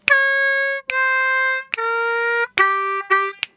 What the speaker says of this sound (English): four draw, half step bend, four blow,